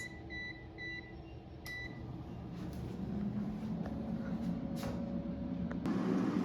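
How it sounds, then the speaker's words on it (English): An air fryer running at 400°F with Lita squash in its basket: a steady low whirring hum, close and moderately loud, preceded by a few short beeps and basket clunks, with no voices. "And now let's put the air fryer basket in the air fryer."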